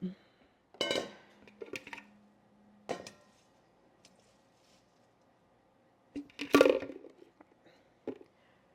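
A big kitchen bowl clatters and knocks against the counter and utensils in a few scattered bursts, with quiet gaps between the handling noises and some faint background sounds.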